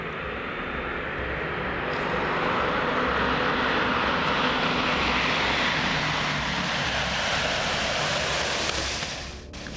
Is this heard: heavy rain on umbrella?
no